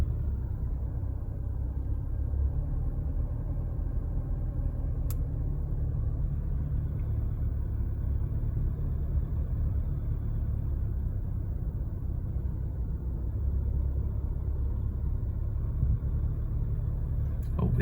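A 2021 Toyota Hilux 4WD with a turbo diesel engine drives along, giving a steady low rumble of engine and road noise throughout. A soft voice can be heard faintly now and then.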